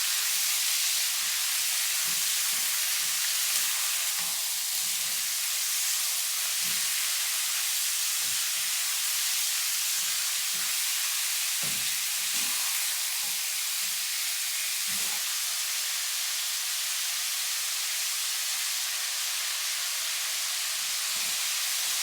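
Continuous loud sizzling hiss of chicken stir frying in a hot pan, with intermittent clatters of stirring throughout.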